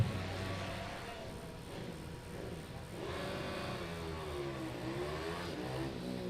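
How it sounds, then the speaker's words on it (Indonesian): Mini sport class racing motorcycle engines at a junior race meeting, a steady distant engine drone with rising and falling revs and pitch sweeps, fairly faint and continuous. "terlihat motor yang lebih besar di sini. Motor yang lebih besar. Dan juga suaranya juga luar biasa, lebih menggelegar di sini."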